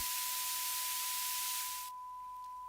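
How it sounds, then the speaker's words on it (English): Loud white noise hiss sits beside a steady sine tone, then abruptly drops away partway through as a sidechain compressor ducks it, leaving the pure tone alone over a faint residual hiss. "We are still hearing some white noise when track A is making sound"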